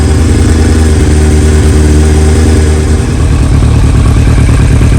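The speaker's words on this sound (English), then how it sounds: "Doesn't sound horrible when it's idling, right?" Loud, steady engine of a Yamaha R1 sport motorcycle idling close by after warming up, a constant throbbing rumble with a slight shift in tone partway through.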